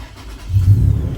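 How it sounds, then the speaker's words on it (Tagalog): A Toyota FJ Cruiser engine starts by push button, a short deep rumble that swells up and holds close by, with no talking. "Pag gusto nyo start, apak sa brake, isang pindot,"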